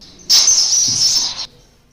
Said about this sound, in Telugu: మార్నింగ్ టైమ్స్లో పిచ్చుకల సప్పుడు ఇంటే ఒక పాజిటివ్ వైబ్ వస్తుంది